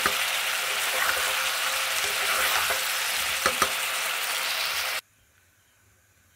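A spice paste and soybean chunks sizzle steadily in a pan with a little water added, a bright continuous frying hiss with a few clinks of stirring that cuts off abruptly near the end, leaving near silence.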